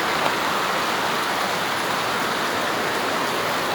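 Heavy rain falls in a dense, continuous hiss, loud and close, with no pauses and no voices over it.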